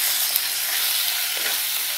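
Chicken pieces frying in a pan with lightly browned onions over medium flame, giving a steady, close sizzle and hiss with a faint tick from the pan.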